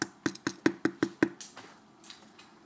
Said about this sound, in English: Mexican Jumping Beans Are Very Loud